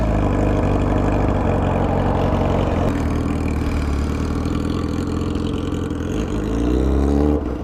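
A 2007 Yamaha R6 motorcycle fitted with a full exhaust and Power Commander 5 holds a loud, steady high-rpm drone close by, rising slightly near the end.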